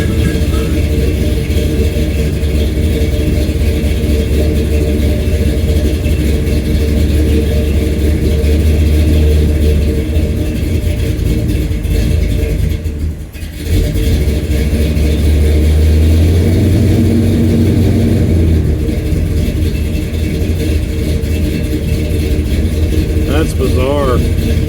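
A car engine runs steadily throughout at close range, a loud, constant low drone with slight shifts in RPM, while people talk over it.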